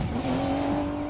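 In the Need for Speed Payback racing game, a car pulls a handbrake turn during a police chase, its tires letting out a short, sharp skidding squeal over a loud engine drone.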